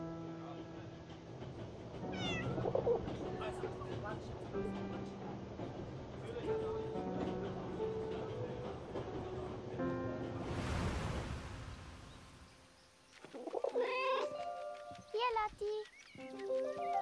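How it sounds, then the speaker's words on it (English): A cat meows in the video game 11-11 Memories Retold, several short mewing calls scattered over soft game music and ambient sound, with a brief swell of rushing noise midway and a burst of meows near the end. "E aí está a gatinha."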